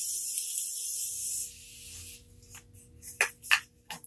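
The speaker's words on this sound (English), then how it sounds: "some setting spray, even though I've sprayed my face like 50 times" Setting spray misted onto a face, a long close hiss of spray followed by quieter soft rubbing and brushing sounds with a few short bursts, and no talking.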